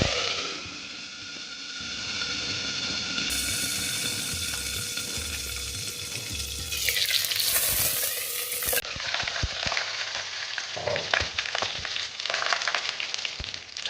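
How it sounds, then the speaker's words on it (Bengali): Curry leaves hitting hot oil while tempering Bengali-style poha make a sharp sizzling burst that settles into a continuous crackling fry, with stirring clatter toward the end and no speech. "তারপরে দিচ্ছি কারি পাতা"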